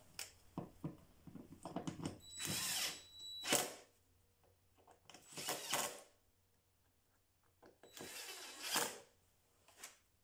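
A cordless power tool drives screws into a cover during basic car servicing that involves replacing the fuel filter, air filter and oil, with several separate whirring bursts of a second or so between quiet pauses and small clicks.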